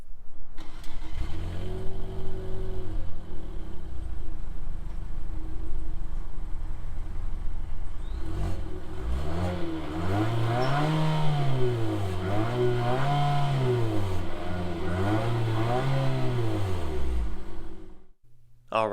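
A 2020 Infiniti QX50 with its 2-liter turbo inline-four starts up and idles, then revs repeatedly in rising and falling sweeps, the exhaust loud and close before it settles and cuts off.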